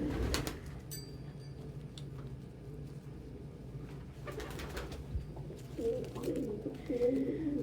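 Pigeons coo outdoors in a steady low murmur of overlapping calls, with a few brighter bird chirps and rustles rising near the end, moderately close and unaccompanied by talk.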